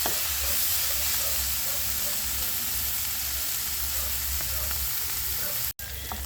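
Alamang shrimp paste fries in a pan, giving a close, continuous crackling sizzle with light stirring, then a momentary dropout just before the end.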